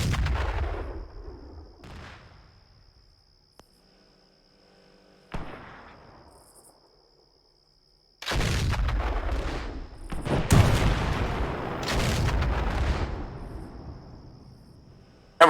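Tank cannon blasts and small-arms gunfire in the military video game Arma, a Command and Conquer mod: several loud, booming shots spaced across the stretch with echoing tails and quiet gaps between, then denser firing toward the end.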